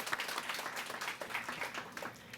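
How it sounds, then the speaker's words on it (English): Applause at a county Pride Month reception, a steady dense wash of clapping from an audience that runs through the whole moment at moderate loudness. "So let's give them a round of applause."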